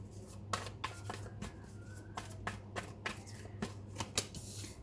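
Tarot cards are shuffled and drawn by hand, giving rapid, crisp papery riffles and flicks in irregular bursts over a low steady hum. The sound is close and fairly quiet, with no talking.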